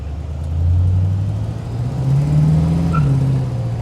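A 1951 Chevy Styleline Deluxe hot rod engine idles with a low, steady rumble that swells slightly as it revs gently, close by and fairly loud.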